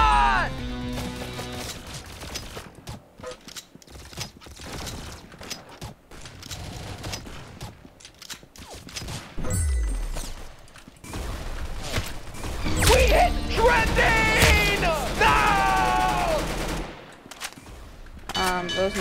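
Rapid bursts of gunfire in the shooter game Arsenal crackle in dense, uneven volleys, building to heavier, louder clusters near the end, with game sounds and occasional talk mixed in.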